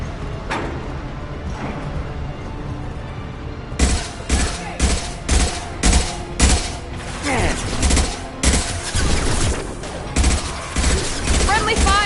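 Rapid gunfire from the video game Mass Effect 2 arrives in repeated loud bursts of shots with a steady battle hum between volleys, plus a brief voice.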